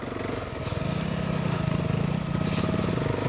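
A KTM 390 Adventure motorcycle engine labours in second gear off-road, giving a steady, throbbing, low-revving drone that stays loud and close throughout, with no talk.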